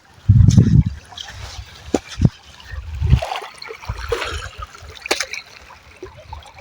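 Water of the Sipu river flowing and trickling, with splashy bursts and scattered knocks over a steady watery wash; a voice is briefly heard near the start.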